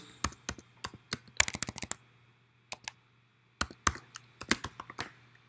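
Computer keyboard typing a search for a wood serving tray: quick close bursts of clicking keystrokes, with short pauses between runs of keys.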